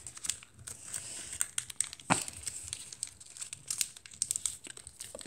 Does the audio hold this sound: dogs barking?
no